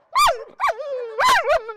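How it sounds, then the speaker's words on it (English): Several dogs of mixed breeds, from Rottweilers to Dalmatians, at a dog sports facility give a few close, loud whining barks and yelps in quick bursts, with no talk. "The dogs here today, all different breeds, from Rottweilers to Dalmatians."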